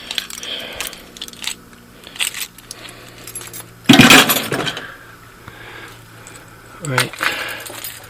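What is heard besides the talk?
set of keys jangling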